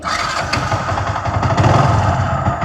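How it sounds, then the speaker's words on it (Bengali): A motorcycle engine runs close by, a loud, throbbing idle with a brief rise in revs midway, no talking. "এখান থেকে চাবি ছাড়াও বাইক স্টার্ট করা সম্ভব"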